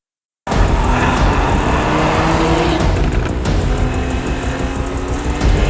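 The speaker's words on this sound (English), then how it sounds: "this normally aspirated engine is absolutely superb" A Porsche 911 with a normally aspirated engine drives at a steady pace, its engine and road noise forming a loud, continuous roar close by, with no voices.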